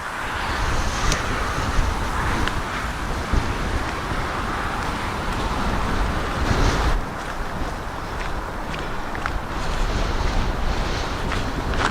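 Strong wind blows steadily across barren open fields on a hiking trail, a loud continuous rushing roar with buffeting gusts against the microphone, no voices.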